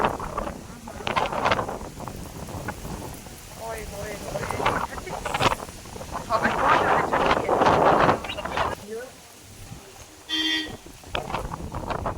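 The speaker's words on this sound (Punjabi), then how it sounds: "ਠੰਡੀ ਹਵਾ ਬਹੁਤ ਜ਼ਿਆਦਾ ਠੰਡੀ ਹਵਾ ਹੈਗੀ" Strong cold wind during a storm roars and buffets the microphone in loud gusts, heard under people talking.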